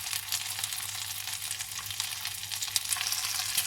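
Onions fry in a hot pan for a vegetable kebab stir fry, a dense, bright, continuous sizzle heard up close with no talk.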